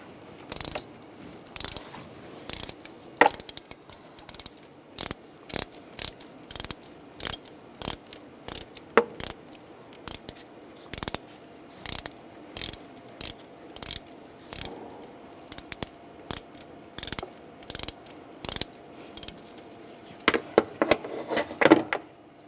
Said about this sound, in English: Using a E10 socket, we'll loosen up the bolt for the idler pulley.